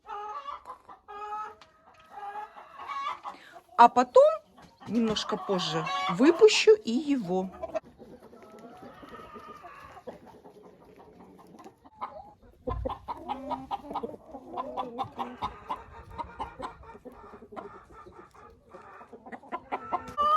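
Ameraucana hens and roosters cluck and squawk in an enclosure, with bursts of close, busy calls early on and scattered clucking later, and someone speaking over the birds.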